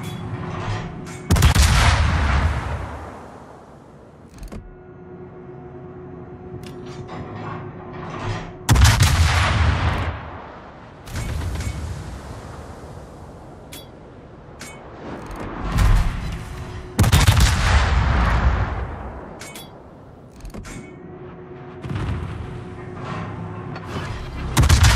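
Naval artillery in the World of Warships video game, firing from a Roon cruiser: heavy booming salvos that roll out across the sea, several seconds apart, with lighter gunfire and rumble between them.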